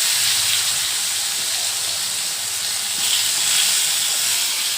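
Slices of eggplant fry in a pan for breakfast, giving a loud, continuous hissing sizzle close by, steady throughout with no voices.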